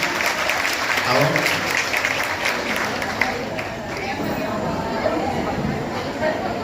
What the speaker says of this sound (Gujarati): આપણે તાળીઓથી એમનું સન્માન કરીશું